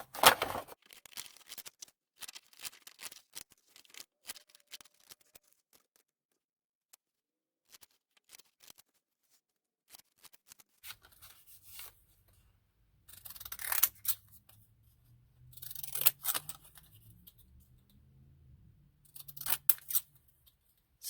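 Scissors snip out paper faux stamps in scattered, close, crisp cuts with long quiet gaps between them, and a soft low coo-like hum enters in the latter half.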